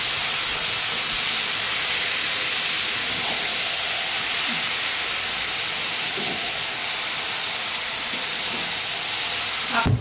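Marinated chicken added to a frying spice paste, sizzling in a loud, steady hiss that holds continuously with no break and no voices.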